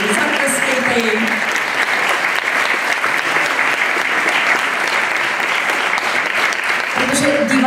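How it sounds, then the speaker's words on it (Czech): Loud, sustained audience applause fills a folk music concert at a Prague gathering of folk bands, a dense continuous clapping crowd with a voice speaking briefly at the start and again at the end. "Zatleskejte si, zatleskejte jim."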